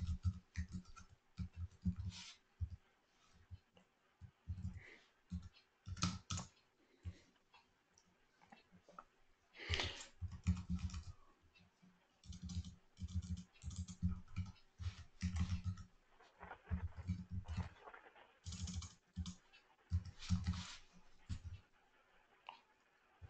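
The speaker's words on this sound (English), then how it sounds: "I'm typing it for you." Bursts of clicky typing on a computer keyboard, keys tapped in quick irregular runs with short pauses, fairly close, while a person talks at times.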